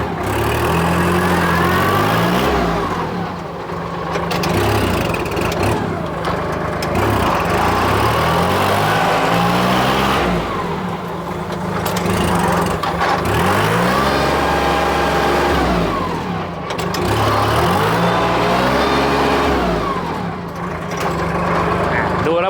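Kubota L3608 DT tractor with its original factory engine note, a close, loud diesel chug that rises and falls in repeated revving swells, with someone talking over it.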